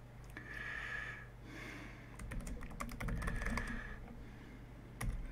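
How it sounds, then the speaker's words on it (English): Quiet, steady typing on a computer keyboard during a game-development stream, with clustered key clicks in irregular bursts over a low background hum and no speech. "Just start off typing out the objective."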